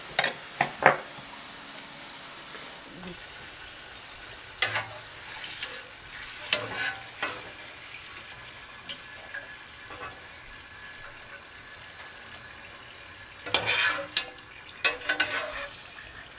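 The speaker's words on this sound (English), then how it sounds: "That's that hissing sound from the frying, infusing the oil." Turkey burgers fry in oil in a home kitchen, giving a faint steady sizzling hiss broken by scattered clinks and scrapes of utensils stirring in the pan.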